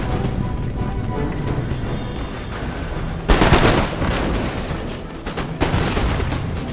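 Massed musket volleys from line infantry in the video game Empire: Total War, a dense continuous crackle of gunfire with sharper louder bursts partway through, heard alone without talk.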